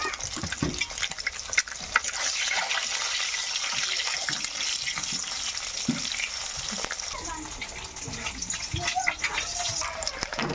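Eggs frying one by one in hot oil seasoned with a little turmeric powder, a loud, continuous close-up sizzle with crackling pops and occasional stirring scrapes.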